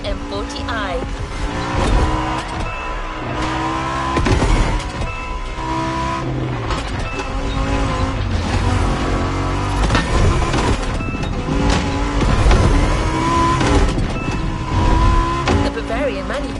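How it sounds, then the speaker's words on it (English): BMW Z4 M40i roadster engine in The Crew Motorfest racing game, a steady loud drone that rises and falls through gear changes, with a continuous voice talking over it. "We have prepared a classic for you from a very famous German brand, the BMW Z4 M40i."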